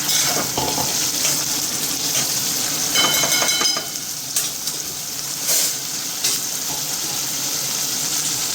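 Green beans frying in hot oil with reddened onion and garlic tempering, a steady close sizzle with brief bursts of crackle and spatter throughout, no voices.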